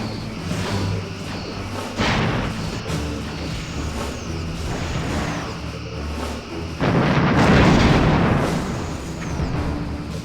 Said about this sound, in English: Evading incoming torpedoes.